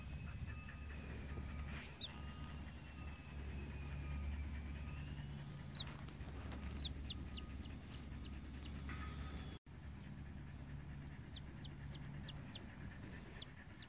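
A three-day-old chick gives several clusters of thin, high peeps over a steady low indoor hum, the chirps fairly faint and coming in quick bursts with pauses between.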